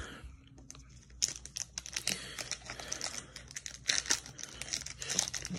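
A Yu-Gi-Oh card pack wrapper is torn open and crinkled, producing a close, busy run of crackling plastic rustles and small tearing bursts after a brief quiet start.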